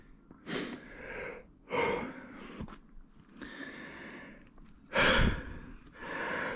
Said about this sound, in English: Cue more heavy breathing. There's a lot of stairs to go up here.